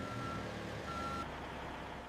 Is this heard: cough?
no